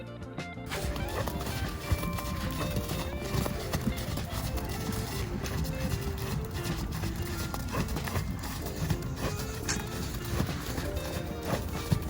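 A horse trots loose in an arena, its hooves clip-clopping in a steady rhythm at moderate distance, with an occasional whinny and outdoor background noise throughout.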